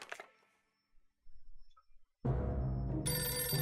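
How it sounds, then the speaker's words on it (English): In the video game 60 Seconds, a phone rings inside the shelter, its ring tone rising after a quiet gap and sounding loud and sustained to the end, with no talk over it. "Day 12 and I hear a phone"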